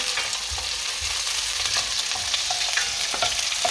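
Onions frying in a pan for an Indian lamb curry, with cabbage mixed in: a steady, close sizzle with soft crackles and occasional stirring scrapes, no talking.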